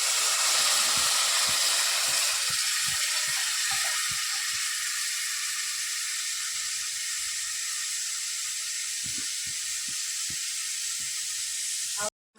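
A loud, steady sizzle and hiss of tamarind mixture hitting a hot pan, continuing throughout with faint clinks underneath.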